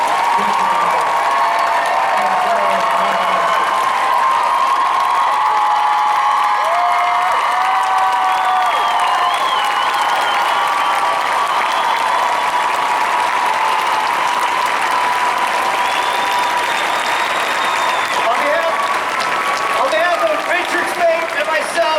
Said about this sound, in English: Round of applause for our cast, Alex Calvert, Misha Collins.